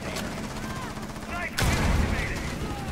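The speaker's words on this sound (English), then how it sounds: "Whoa, that's a gun." Gunfire in Rainbow Six Siege cuts in suddenly as a loud, dense burst of shots over a steady bed of game noise, continuing to the end after a quieter stretch.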